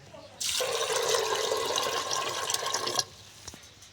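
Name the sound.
water poured into pressure cooker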